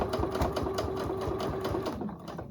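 A sewing machine stitches a quilted poinsettia table runner in steady rapid bursts, the needle's rhythmic chatter close and continuous before slowing and easing off near the end.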